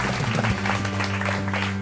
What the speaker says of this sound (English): Let's give them a round of applause, please, ladies and gentlemen.